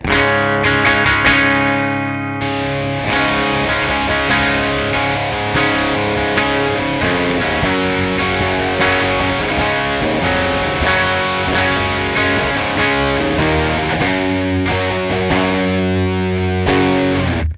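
An electric guitar plays through a Behringer TO800 Vintage Tube Overdrive set to a dark tone, heavy sustained distorted chords and notes ringing continuously with muddy, thick texture and little note definition, no voices.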